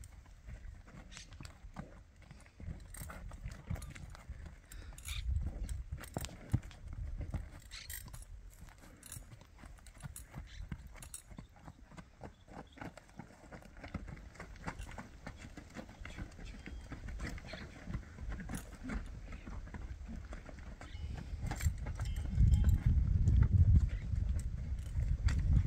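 A bay working ranch horse moves along with repeated hoof clip-clops, close by over a steady outdoor rumble that grows heavier near the end, with occasional jingling of tack.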